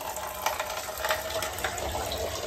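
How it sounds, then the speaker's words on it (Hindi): Water runs from a tap into a mug in a steady, moderately loud splashing stream, with no talking over it. "पहले आधा मग्घा पानी लेके आऊंगा"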